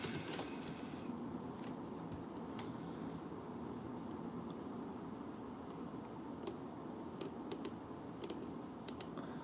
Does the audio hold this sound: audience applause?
no